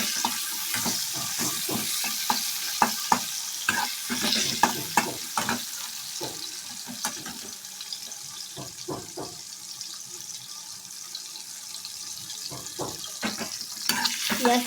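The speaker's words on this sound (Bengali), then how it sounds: "তেলের মধ্যে আমি পেঁয়াজটা দিয়ে দেবো।" Onion frying in oil in a pan for a vegetable and live katla fish curry, with a steady low sizzle broken by repeated scraping and stirring knocks close by, and no talking.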